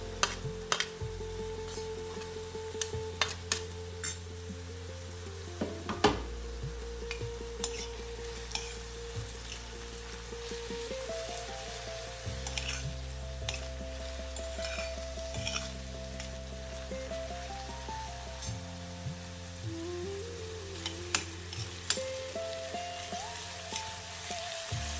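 Crushed garlic and chopped green chilies sizzle steadily in a homegrown methi sabji, with a close, even frying crackle and intermittent stirring scrapes against the pan, alone without voices.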